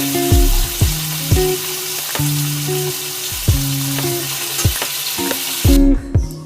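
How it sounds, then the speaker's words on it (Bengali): Marinated prawns frying in hot oil for Bengali mocha chingri, a loud continuous sizzle broken by repeated metallic scrapes and clinks of a utensil in the pan, ending abruptly. "চিংড়ি মাছটা ভেজে তুলে রাখছি।"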